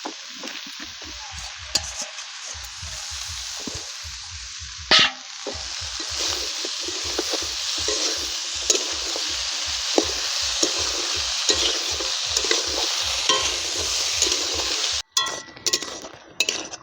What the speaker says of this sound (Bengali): এবার লাউ কেটে রেখেছিলাম দিয়ে দিচ্ছি।